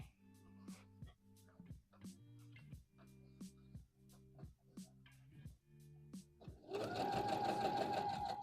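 A sewing machine stitching the side seam of a McCall's M8141 dress, running in short rhythmic bursts with pauses, then a longer, louder continuous run at the end; close and clear.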